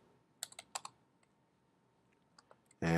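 Typing on a computer keyboard: a handful of quick, close key clicks in two small clusters, faint and separated by a near-silent pause, ending in a louder sudden noise.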